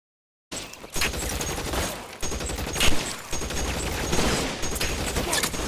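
Rapid gunfire from the video game L.A. Noire, loud, dense volleys of shots rattling close by in bursts, continuous through the scene with no voices.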